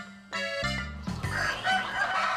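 A rooster crows loudly and close on a Korean farm with a pear orchard, joined by scattered clucking from chickens in the hot midday sun.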